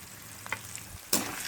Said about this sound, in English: give this a good stir and cook until the onion has become soft